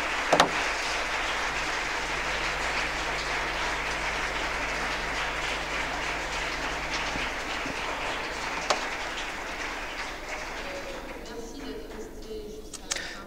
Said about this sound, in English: a big round of applause for the interpreters